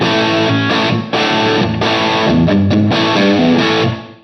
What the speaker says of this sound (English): there's some great crunchy tones available there in the lower range of the gain settings